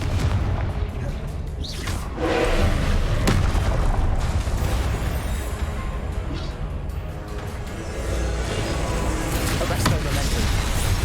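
Confringo fire-blast spell in the Hogwarts Legacy video game, a series of booming explosive bursts layered over dense, continuous game combat noise and music, with speech present throughout.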